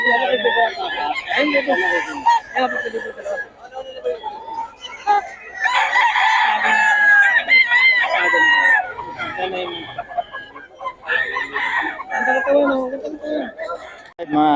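Roosters and chickens crow and cluck at a gamefowl market in Bocaue, with several overlapping crows and steady clucking mixed under constant nearby chatter and people talking.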